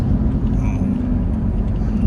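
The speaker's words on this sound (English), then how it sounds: "Too much traffic here." Heavy, jammed road traffic in Kuala Lumpur, heard as a dense, continuous low engine rumble close by, steady and loud throughout.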